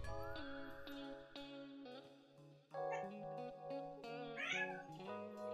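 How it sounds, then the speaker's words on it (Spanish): Two cats yowl and meow in long, wavering, drawn-out cries that rise and fall, fairly close and clear with no one talking. "No, gatos peleando. Están así hace 2 horas"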